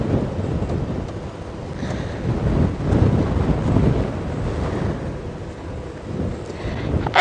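Wind gusts across open African safari country on a windy day, a loud buffeting rumble and blustery roar against the microphone that rises and falls steadily throughout.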